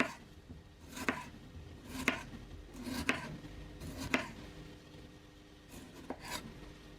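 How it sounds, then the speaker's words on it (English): A knife thinly slicing a tomato on a board, with soft regular cuts about once a second ending in a knock on the board, fairly quiet and close, with no talking. "Now tomato, we're just going to thinly slice this as well."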